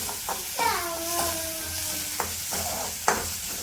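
Green chili, ginger and garlic paste with curry leaves sizzling in hot oil in a home kitchen, a steady crackle with scraping stir strokes, while a voice chatters over it.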